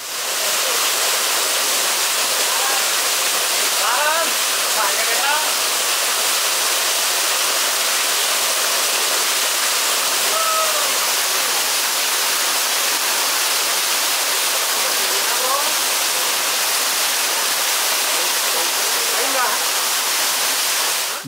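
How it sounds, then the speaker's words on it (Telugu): Rampa waterfall near Rampachodavaram and Maredumilli, its water pouring down in a loud, unbroken broadband roar heard up close, with faint voices barely rising above the rush. "చాలా థ్రిల్లింగ్గా ఉంది, అద్భుతంగా ఉంది ఈ వాటర్ ఫాల్."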